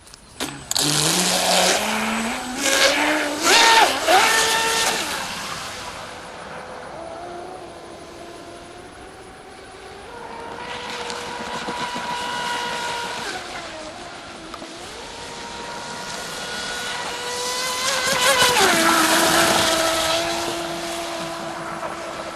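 A small high-pitched motor whines and screams as a Libero RC racing boat speeds past on water, its pitch rising and falling repeatedly, loud then fading and surging again.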